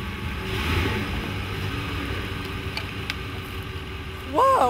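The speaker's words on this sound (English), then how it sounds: "Not that every day you drive a pickup truck over your roof" A pickup truck driving up onto a polyurethane foam roof, its engine a low, moderate rumble under background noise, a voice breaking in loudly near the end.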